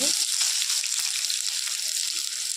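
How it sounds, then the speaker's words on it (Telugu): Onions frying in a pan for an egg masala curry give off a bright, continuous hiss, close up and alone for the whole stretch. "ఉల్లిగడ్డ ఫ్రై చేసుకుందాము"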